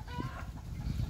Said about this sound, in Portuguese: Olha a galinha, botou ovo, fica assim.